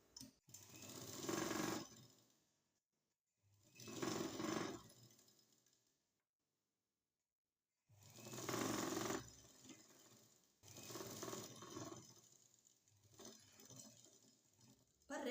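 Sewing machine stitching the folded edge of a silk skirt, running in four separate bursts of steady, rapid needle chatter with silent pauses between them, close and clear.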